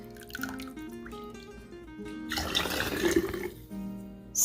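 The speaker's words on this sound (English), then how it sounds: "So all I'm going to do now is just take this ladle and ladle my broth right into the jars." Homemade chicken broth is ladled into jars, with soft drips and splashes and a louder pouring burst partway through. Light clinks of glass and ladle sound close by.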